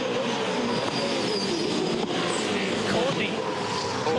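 V8 Supercar race cars on track in the 2008 championship, a continuous loud engine roar with shifting pitches as cars jostle through corners, the packed field sounding near and busy.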